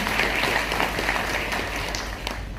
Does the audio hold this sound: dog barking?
no